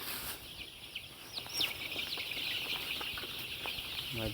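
Chickens cluck and chirp softly at a distance, a few scattered calls over a faint, steady background hiss.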